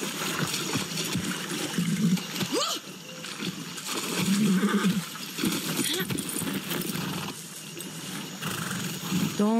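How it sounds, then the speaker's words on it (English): In the video game Far Cry 6, a horse gives several snorts and whinnying calls amid hoof movement, with a voice speaking over parts of it. "Hey, horse, ready to go?"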